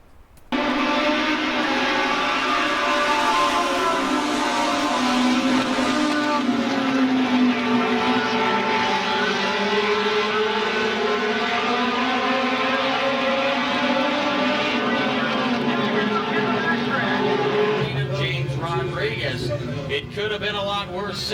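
Legends race cars roar around Volusia Raceway Park during the Florida WinterNationals, a loud continuous engine howl whose pitch rises and falls as the cars pass, with talk mixed in and a rougher, choppier stretch near the end.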